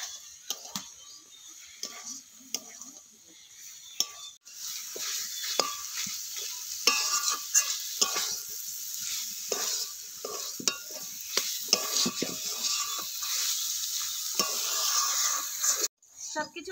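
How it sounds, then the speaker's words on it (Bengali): Spices, spring onion stalks and tomato are stir-fried in a pan, with steady sizzling and repeated scraping stirs of a spatula, close and fairly loud, broken by a brief pause. "এবার ভালো করে একটু কষিয়ে নিচ্ছি।"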